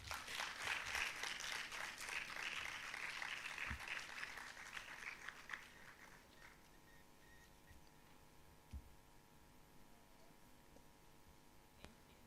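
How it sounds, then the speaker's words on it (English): Applause from an audience at a leadership forum, loud at first and fading away after a few seconds, leaving faint scattered claps and quiet room tone. "please help me welcome these amazing women with another round of applause."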